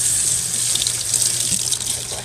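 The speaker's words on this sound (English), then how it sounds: "just wash the front side as well as the back side. And then give it a good rinse." A kitchen tap runs steadily in a sink as a dish sponge is rinsed under it, a close, continuous splashing hiss with slight shifts as the sponge moves through the flow.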